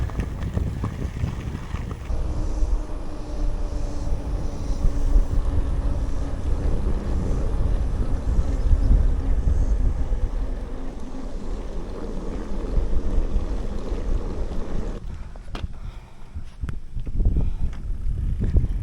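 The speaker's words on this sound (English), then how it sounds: "Super windy on the way back." Strong headwind buffeting the microphone outdoors, a loud, steady low roar and rumble that holds for most of the stretch before briefly easing near the end.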